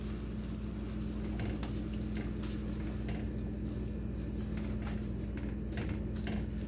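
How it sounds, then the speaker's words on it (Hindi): Chickpeas sizzle in a pan with spices for chana chaat, a steady, dense frying hiss with faint scraping stir strokes throughout and no voices. "खाली बस हम चने इसमें डाल के इसको भी ज़रा हम भून लेते हैं।"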